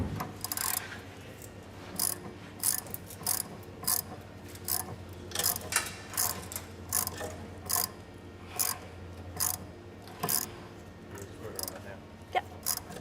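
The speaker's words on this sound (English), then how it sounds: "grab a ratchet. Here you go. Use a ratchet." A hand ratchet works in a garage, its clicking bursts repeating in a steady rhythm of short, close, fairly loud strokes with low background hum.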